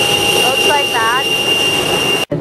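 Steady broadband hum of a Cebu Pacific airliner cabin before takeoff, loud and continuous, with a faint tonal whine and a brief chime-like tone, ending in a sudden cut.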